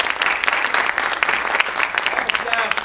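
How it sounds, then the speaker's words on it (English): An audience at a high school schedule meeting breaks into dense, sustained clapping, steady and fairly close, with a voice faintly audible beneath it. "I want to give them a little round of applause"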